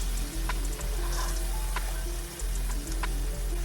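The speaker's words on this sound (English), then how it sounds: "simply flip your tofu over. And let it cook on the other side now." Tofu in sauce sizzling steadily in a pan, a close, even frying hiss with a few light clicks and taps throughout.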